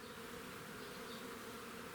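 Dense, steady buzzing of many honeybees at a hive fills the air without pause, a continuous swarm hum at moderate level.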